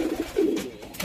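Rajshahi Giribaz pigeons give short low coos close by, a couple of brief throaty burbles in quick succession.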